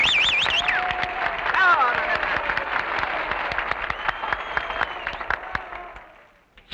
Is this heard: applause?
yes